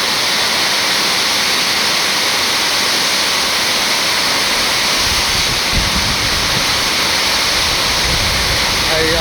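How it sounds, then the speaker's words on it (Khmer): Heavy rain pours down in a loud, unbroken roar of water, a dense steady hiss that fills the whole space close by without letting up. "ភ្លៀងខ្លាំងមែនទែនហ្មង បងប្អូនស្ដាប់តែសំឡេងទឹកក៏ដឹងដែរ"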